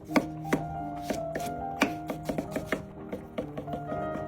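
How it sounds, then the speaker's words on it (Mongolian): A knife chops cucumber and ham for a Mongolian capital salad, the blade striking a cutting board in an irregular run of sharp, close knocks with brief pauses, alone without any talk. "Үрцэг болон хямаа хэрчих болно."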